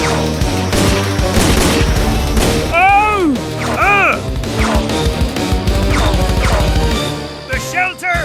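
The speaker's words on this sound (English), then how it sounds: "his pistol fires more shots without reloading" Pistol gunfire in a Spanish pirate audio drama, with sharp cracks and crashing impacts scattered among loud dramatic music and shouting voices, dense and busy throughout.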